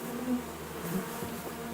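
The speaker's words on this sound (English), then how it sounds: "Those are my bees." Bees buzzing in Kingdom Come: Deliverance II, a steady low drone that holds at moderate loudness throughout without a break.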